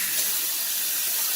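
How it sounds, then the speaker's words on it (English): Hot water runs steadily from a kitchen tap into a sink, a close, even hiss and splash with no talking. "I will turn the hot water on"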